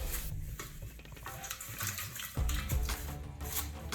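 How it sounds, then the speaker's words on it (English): Cold water pours steadily into a pot with a splashing rush, growing heavier partway through, close and fairly quiet, with no talking. "We add our cold water"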